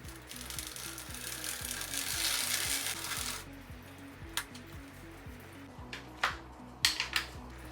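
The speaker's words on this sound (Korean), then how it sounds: "체인 청소 키트 툴에 세정제를 뿌려서 연결해주고 체인을 돌려줍니다." A bicycle chain cleaning kit filled with degreaser rattles softly as the chain is turned through it, giving a steady rapid clicking patter under a brief washy hiss, then a few sharper isolated clicks and ticks.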